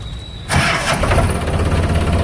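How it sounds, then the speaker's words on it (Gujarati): A tractor engine cranks and catches after a brief quiet moment, then settles into a loud, close, rumbling idle. "ટ્રેક્ટરને ચાલુ કરીને સીધું જ હંકારી નહીં મૂકવાનું, એને થોડીક વાર ઓઇલ ચડવા દેવું પડે"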